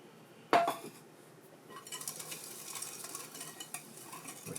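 A sharp metallic clink on the bowl, then a spoon or whisk stirs granulated sugar into banana bread batter with quick, rhythmic scraping and tapping close by.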